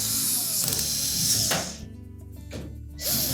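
A power tool drives screws to secure the back panel of a Whirlpool washer, giving a close, loud whirring and ratcheting run that stops briefly and then starts again.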